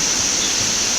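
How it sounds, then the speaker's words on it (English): A waterfall in the Brecon Beacons National Park roars as a steady, dense rush of falling water, loud and close with no break. "we got to waterfall number 2"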